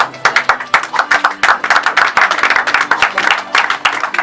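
A church congregation claps in rhythmic, fairly close applause, sharp hand claps running steadily throughout with a faint murmur of voices.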